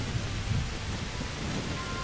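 Steady rain in the video game Kingdom Come: Deliverance, a constant broadband hiss with low rumbling underneath, even in level throughout and heard alone with no talking.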